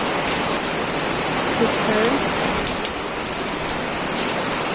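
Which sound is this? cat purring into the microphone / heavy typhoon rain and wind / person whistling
heavy typhoon rain and wind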